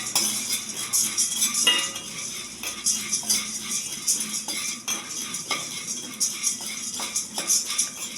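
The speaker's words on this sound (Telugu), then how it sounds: "ఇవి ఒక సెగ మీద కొంచెం వేగించాలి." Green chili and tamarind roasting in a pan, with a utensil scraping and clinking against the metal in irregular stirring strokes, close up, no talking and only a faint sizzle.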